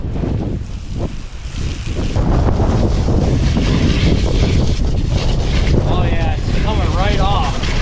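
Water sprays off a 2022 Polaris Ranger XP 1000 Northstar Ultimate side-by-side during a wash, making a loud, continuous broadband hiss and rush with wind buffeting, with a voice speaking briefly near the end.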